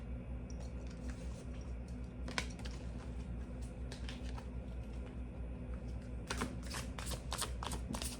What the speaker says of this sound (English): I literally shuffled the cards